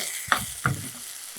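Quail and small tubers with tomato sizzle in a hot pan while a utensil scrapes and stirs it twice, with a short clatter near the end.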